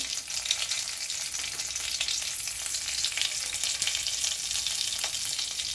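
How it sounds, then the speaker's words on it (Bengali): Very hot homegrown chilies and a generous amount of nigella seeds fry in a little hot oil, giving a dense, constant sizzling crackle at close range that stays loud and even throughout, with no one speaking. "তেলটা গরম হয়ে গেছে, লঙ্কা দিলাম, এটা গাছের লঙ্কা, ভীষণ ঝাল। এরপর বেশ কিছুটা কালো জিরে দিয়ে দিলাম।"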